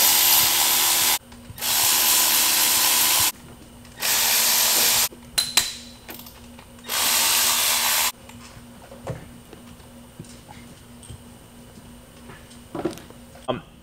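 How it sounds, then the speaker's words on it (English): A power ratchet spins out 6 mm Allen bolts on a Duramax diesel engine in four loud, steady whirring bursts of one to two seconds each, followed by quieter workshop clatter. "use a ratchet to take them all the way out"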